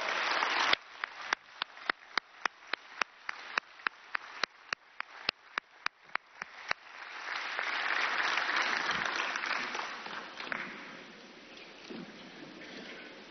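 An audience at the African Business Forum in an international conference centre breaks into applause. About a dozen sharp, evenly spaced clicks come first, then a full burst of clapping swells, holds for a few seconds and fades.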